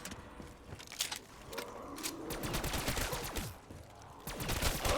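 Automated turrets in the Kino Der Toten zombies map rattle off dense rapid-fire bursts, loud and continuous, with clanking mechanical sounds mixed in among the gunfire.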